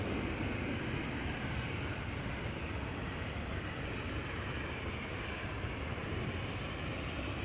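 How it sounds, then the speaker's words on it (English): At Amsterdam Schiphol, a 23-year-old KLM Boeing 737-800 bound for Copenhagen makes a faint, distant, continuous engine rumble, unbroken and even throughout. "We're watching KLM flight 1127 to Copenhagen, Boeing 737-800, 23 years old, first flight May 2000."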